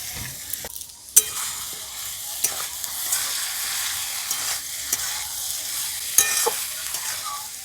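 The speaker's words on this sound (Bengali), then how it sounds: "এবার সমস্ত সবজি একসঙ্গে দিয়ে দেব।" Mixed vegetables stir-frying in hot oil with ground black pepper, a loud steady sizzle close by with scraping stirs and occasional sharp clacks of a utensil against the pan.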